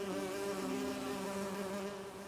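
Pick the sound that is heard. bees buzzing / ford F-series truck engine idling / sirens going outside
bees buzzing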